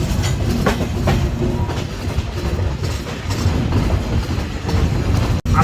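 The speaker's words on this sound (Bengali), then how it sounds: "আজকে আমরা যে ট্রেনে ভ্রমণ করছি এই ট্রেনটির নাম হচ্ছে নীলসাগর এক্সপ্রেস" The Nilsagar Express runs on rails leaving Gazipur, its wheels clattering in a steady clickety-clack under a loud rumbling rush heard from aboard the moving train.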